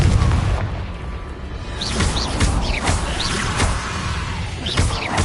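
A Confringo fire spell explodes in Hogwarts Legacy with deep booming blasts and crashing impacts, mixed with whooshing magical swishes and bright chimes, loud and continuous over a rumbling game soundscape.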